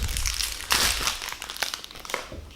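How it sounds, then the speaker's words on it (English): Pokémon trading card packaging crinkles and rustles close up, a burst of crumpling plastic with scattered crackles, heard alone without talk. "Sorry for the rustling."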